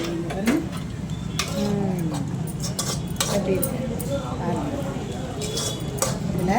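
Broad beans with mustard seeds are stirred in a pan with a ladle, producing light metallic clinks and scrapes at irregular intervals while a person talks.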